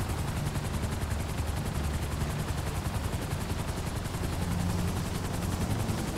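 A helicopter in GTA 5 Online on Xbox One thrums with a loud, steady, rapid rotor chop that persists without a break, close and dominant, with no voices over it.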